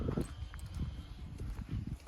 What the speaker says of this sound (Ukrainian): Маємо такі кобилки на продажу.